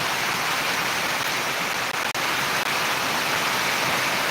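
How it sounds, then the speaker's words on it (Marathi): A dense, steady roar of heavy monsoon rain in Buldhana, Vidarbha, India, pours without letup, filling the whole space with loud continuous hiss. "आता पावसाचा जबरदस्त पावसाला सुरुवात झाली विदर्भामध्ये"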